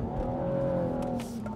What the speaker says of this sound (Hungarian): Nagyon halad hátul. Nagyon begyorsult.